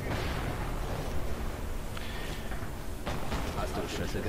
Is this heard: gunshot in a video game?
yes